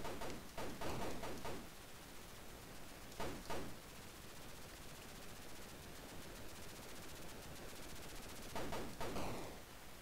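Bullets fired in an Atari 2600 video game, bursts of rapid buzzy rattling shots in quick clusters over a constant hiss, moderately loud and with no talk.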